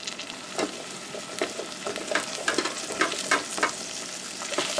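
Tomato paste is stirred into onions frying in a pan for jollof rice, with a steady close sizzle and repeated scraping, clacking strokes of the utensil against the pan in an uneven rhythm, with no talking.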